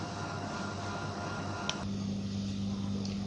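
An electric sewing machine stitches a double band strip glued onto a gents' shirt collar band: a steady, close mechanical whir with a constant hum, one sharp click partway through, and a slight shift in tone near the middle.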